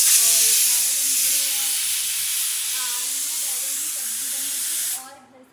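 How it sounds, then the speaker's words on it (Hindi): Potatoes boil on a home kitchen stove, sending out a loud, continuous hiss of escaping steam that runs steadily and then cuts off sharply near the end, with a voice talking softly underneath. "आलू उबल रहे हैं और ये प्याज कट रही है।"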